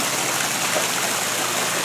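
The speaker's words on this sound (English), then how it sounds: "Right here, nice waterfall" A waterfall along a garden trail on Lookout Mountain gives off a continuous, dense rushing roar of falling water, steady and fairly loud with no talk.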